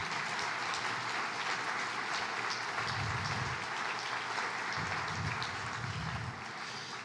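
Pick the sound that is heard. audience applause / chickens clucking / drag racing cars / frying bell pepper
audience applause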